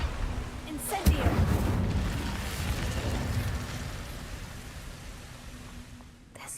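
A fire spell cast in the video game Hogwarts Legacy, a sudden whooshing burst of flame near the one-second mark that trails into a long, rushing crackle under a low background hum.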